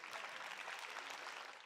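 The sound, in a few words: applause on the Nomura trading floor in Tokyo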